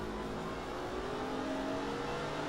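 A lowered BMW E39 530d diesel saloon pushing on at very high road speed, its engine and road noise forming a steady, close, droning whir that holds without a break.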